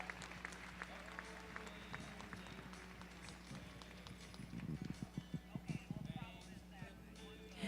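Clapping from the audience at a registered mare cart show in an arena, mixed with clip-clop hoofbeats of mares pulling carts, steady crowd noise throughout with louder bursts near the end, voices talking over it.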